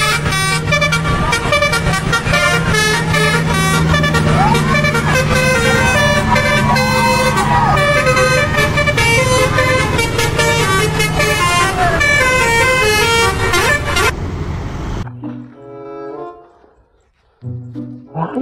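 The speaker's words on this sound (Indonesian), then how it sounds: "kali ini ada bus Rimba Raya teman-teman." A Rimba Raya bus rolls past with loud engine rumble and a long, tuneful multi-tone horn that blares for most of the pass, then the sound cuts away to quieter traffic.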